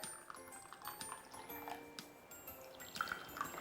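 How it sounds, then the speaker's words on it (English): Half a cup of water poured into a Korean sauce for braised tofu gives soft, faint trickling and small splashes, quiet and close. "And each sauce add half cup of water."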